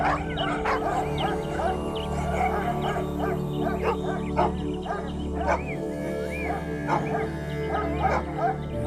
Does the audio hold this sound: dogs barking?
yes